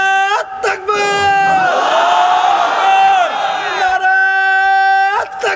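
A large gathering at an Islamic sermon in Pabna shouts the takbir chant in unison, loud and sustained, a massed roar of voices that swells and holds before breaking off, with a single voice leading at start and end.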